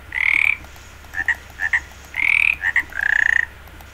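Frogs croaking in the Minecraft modpack Hexxit, a series of sharp, bright croaks in uneven bursts, some long and some short doubled calls, loud and close with no talk.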